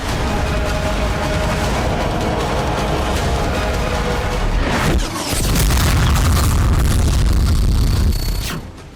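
Continuous heavy booming and roaring blasts of Turkish navy rockets fired at sea near Cyprus and Greece, with a brief dip midway before another loud sustained roar.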